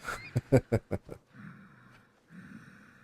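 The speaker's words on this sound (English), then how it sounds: "those guys are breathing hard" Characters in the game Assassin's Creed Origins breathe hard, with five quick, heavy, rhythmic panting gasps followed by a lower, steadier rasping breath that pauses and returns.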